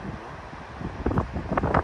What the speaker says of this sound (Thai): ลมทะเลลมจากไอ้ทะเลสาบนี่เย็นมาก